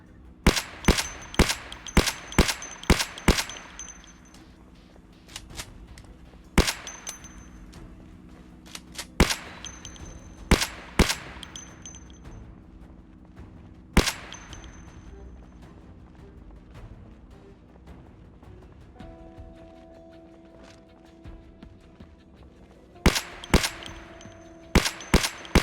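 Gunfire from the Project Zomboid video game, with rapid clusters of sharp shots, then scattered single shots and another burst near the end. The shots are fairly quiet over a low background.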